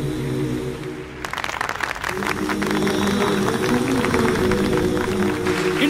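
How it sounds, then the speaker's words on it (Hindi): An audience bursts into applause after a spoken lead-in, the clapping swelling from scattered claps into a loud, continuous roar that carries to the end. "तालियां!"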